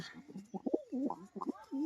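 A pair of Jhamar pigeons coos close by in several soft, rolling phrases separated by brief pauses, with no other sound around them.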